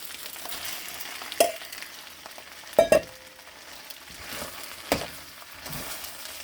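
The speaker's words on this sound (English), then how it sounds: "And I'm just giving it a stir." Shredded chicken fried rice with eggs and onions being stirred in a pan, a steady low sizzle with a few sharp utensil scrapes and clacks against the pan.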